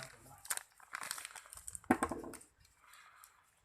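A plastic zip-lock bag is handled and crinkled in short, close bursts of rustling, with a sharper crackle near the middle and quiet gaps between.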